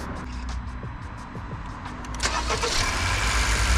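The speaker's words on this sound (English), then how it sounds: "Go ahead and start the car." A Honda Accord engine cranks and catches, then settles into a steady low idle with a louder rumble after starting, heard from nearby.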